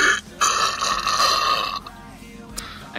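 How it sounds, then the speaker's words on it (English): A young man lets out a long, loud, rasping burp during a multiplayer game session, a drawn-out throaty rumble that cuts off sharply and is followed by faint voices and noise. "No, I burped."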